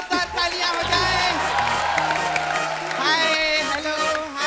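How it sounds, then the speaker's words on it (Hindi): Studio audience at a comedy talk show cheers, whoops and applauds loudly for the women's cricket team, a dense sustained crowd roar with music playing underneath. "हेलो विमेन क्रिकेट टीम के लिए एक बार जोरदार तालियां हो जाए।"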